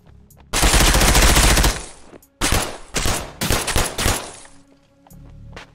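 Heavy gunfire from the tactical shooter game Ground Branch: a long sustained automatic burst, then several shorter volleys and single cracks, loud and close with brief gaps between.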